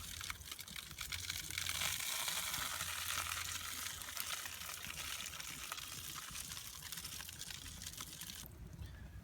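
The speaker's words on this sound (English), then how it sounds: "You can hear it sizzling away." A dense, steady crackling sizzle of lamb shank cooking over a campfire in winter woodland, close and continuous, with no voices.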